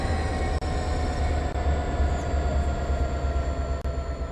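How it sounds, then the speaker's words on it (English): Train in the Train Sim World game, Peninsula Corridor line, coming to an emergency stop: a loud, steady low rumble of rolling rail wheels with faint high squeal, continuous throughout without talk. "okay, we're coming to an emergency stop. Wait for the train to come to a complete stop."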